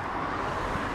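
A steady wash of traffic noise with a broad roar of cars passing, continuous and fairly loud, with some wind mixed in.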